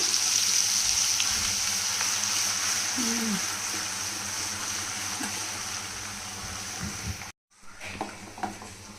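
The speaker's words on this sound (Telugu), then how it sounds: "అల్లం వెల్లిగడ్డ పేస్ట్ వేగిపోయింది, మంచి ఫ్రై అయిపోయింది" Ginger garlic paste frying in oil for a prawn pickle, a steady close hiss that cuts out briefly near the end and then resumes with a few scrapes.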